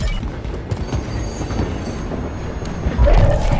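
A moving train in the Warzone 3 battle map rumbles and clatters close by, a steady loud mechanical roll with rattling clanks that swells toward the end, no speech over it.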